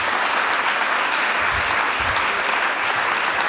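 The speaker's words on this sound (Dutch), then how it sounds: "Applaus alsjeblieft" An audience applauds at the close of a Dutch arts evening, a dense, steady wash of clapping that fills the whole stretch at full loudness with no voices on top.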